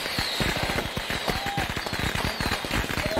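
Fireworks going off in a stunt movie: a rapid, crackling string of sharp pops and bangs, loud and close, popping continuously over a noisy background.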